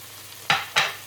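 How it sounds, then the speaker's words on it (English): Garlic dropped into a hot pan for a nettle and dandelion soup, giving two short, loud bursts of sizzling and stirring close by, with no talk. "Just add the garlic."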